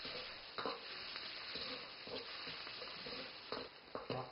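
Shrimp and Chinese cabbage sizzle and fry in a pan, a steady crackling hiss with occasional louder scrapes and stirs of the spatula, close and alone without talk.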